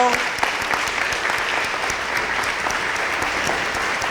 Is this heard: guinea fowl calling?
no